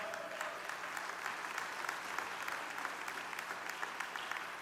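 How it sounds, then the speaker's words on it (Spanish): Church congregation clapping in praise during a Christmas sermon, a steady, moderately distant wash of many hands with faint scattered voices. "un aplauso al Señor"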